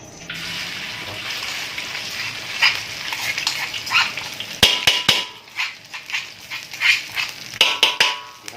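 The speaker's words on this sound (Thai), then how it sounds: "เอา พริกแกงที่เราเตรียมไว้ในครกนะครับลงไปทอดให้หอมก่อน" Thai red curry paste, freshly pounded in a mortar, frying in a small amount of oil while wild boar curry is being made at home. A steady close sizzle carries on throughout, and sharp knocks and scrapes of a utensil against the pan grow louder in the second half.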